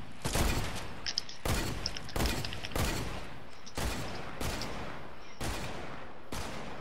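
Automatic sniper rifles firing in a Fortnite Creative match, loud rapid gunshots cracking out in a steady volley of about eight blasts, dense and close with no gaps of silence.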